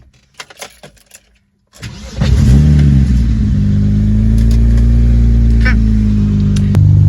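A BMW E30 fitted with an N54 engine, suffering a blue exhaust smoke problem, starts after a few handling clicks, cranks briefly, then settles into a loud, steady close idle with a slight rise near the end.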